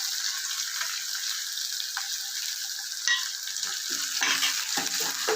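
One large onion drops into hot oil with browned urad dal for an eggplant chutney, raising a steady sizzle, with a few stirring clinks and scrapes toward the end. Nobody talks.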